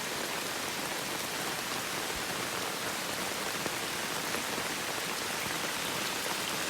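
Rain pours steadily over a hillside path at Litalip, a dense, even patter of drops on surfaces forming a continuous hiss with no voices, constant in level from start to finish.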